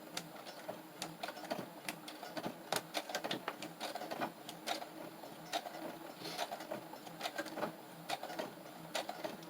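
A sewing machine stitches locking stitches, a few forward then a few back, on a gratitude journal cover embellishment, with quick rhythmic clattering bursts of needle action repeating close by throughout, moderately quiet with no talking.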